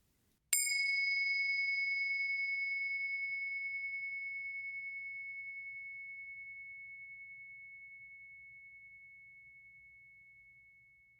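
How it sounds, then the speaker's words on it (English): One clear bell struck once, its bright pure tone ringing out and slowly fading over about ten seconds in otherwise quiet surroundings. "let's settle in together with the sound of the bells"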